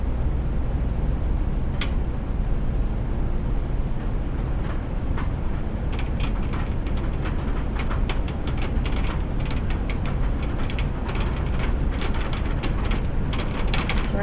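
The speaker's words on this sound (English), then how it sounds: "It's raining. Do you like the rain?" Rain pours steadily outside a haunted inn, a dense continuous hiss with sharp drips and patters growing busier in the second half, loud and close with no talking.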